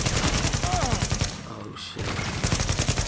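Rapid automatic gunfire in The Division video game during blind fire from cover, loud sustained bursts with a short pause in the middle, while a player briefly exclaims over the shooting.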